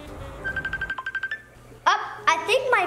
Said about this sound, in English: I think my phone's ringing.